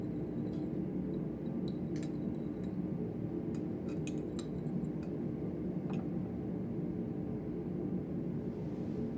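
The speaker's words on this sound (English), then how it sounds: "he can use it actually to stir this up a bit" A stainless steel temperature probe stirs a sodium chloride solution in a lab container, giving scattered light metallic clinks and ticks against the glass over a steady low hum.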